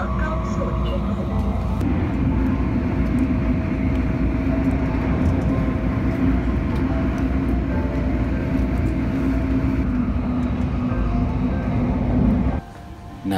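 The Hong Kong Airport Express train rumbles along steadily from inside a carriage, a constant low drone with faint voices underneath, then the sound cuts off near the end.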